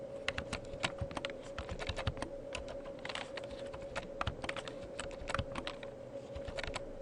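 Computer keyboard typing while month names and values are entered into Excel 2010 worksheet cells: a steady, close run of quick, light key clicks with brief pauses, no voices.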